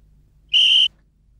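A metal whistle gives one short, shrill blast, loud and close, lasting about a third of a second against near silence.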